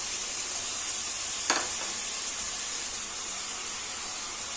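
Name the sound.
chickpeas frying in a pan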